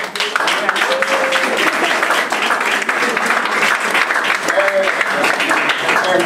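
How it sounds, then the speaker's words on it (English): A crowd at a press conference and grand opening applauds two daughters, loud sustained clapping throughout with a few voices and cheers mixed in. "Can we give them a round of applause?"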